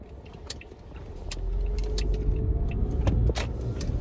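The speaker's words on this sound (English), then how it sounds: "You're seeing this many cars coming down the street." Cars drive down a street on a summer day, a low engine rumble swelling as vehicles pass close by, mixed with sharp clicks and rattles nearby.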